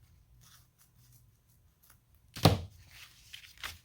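Scissors snipping through paper gingerbread man craft pieces for a Christmas project, a few faint quiet snips and then one sharp, close cut followed by softer rustling.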